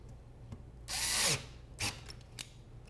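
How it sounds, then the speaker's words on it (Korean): An electric drill loosens screws on a terminal block on an electrical wiring practice board, giving one short whirring burst, a brief second spin and a faint click, close and quiet, with no voices. "다 조여져 있기 때문에 전동 드릴로 빠르게 풀어 놓으시면 되세요"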